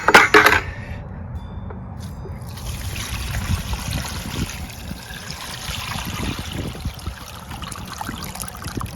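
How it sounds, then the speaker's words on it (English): A quick clatter opens, then dirty car-wash water trickles and splashes steadily onto mulch for several seconds, close by and moderately loud. "have to pour this out in the mulch"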